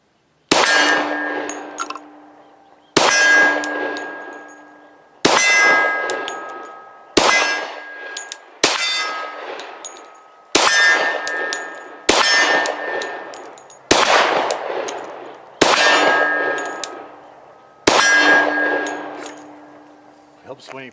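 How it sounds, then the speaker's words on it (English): Shots from a Glock 40 MOS pistol ring steel targets in about ten distinct metallic clangs, each with a long, bright decay. The hits are spaced roughly two seconds apart. "Shooting on steel."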